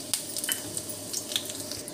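Dried red chillies sizzling in hot oil for a chutney tempering, a crackling spattering fry with sharp pops scattered over a steady hiss, close and alone.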